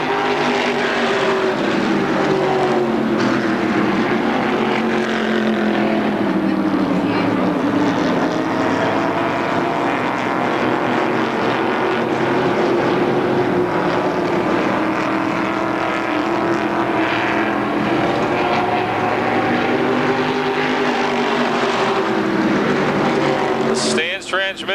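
Stock cars racing at Motordrome Speedway in 2003: a loud, continuous roar of several engines rising and falling as the pack circles the oval, with an announcer talking over the noise throughout.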